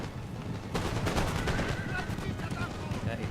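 Dense crackle of massed musket volleys mixed with booming artillery in a Napoleon Total War battle, a continuous rolling barrage of overlapping shots with a voice faintly underneath.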